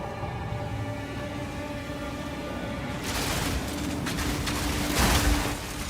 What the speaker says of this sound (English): The booms from this build are so satisfying.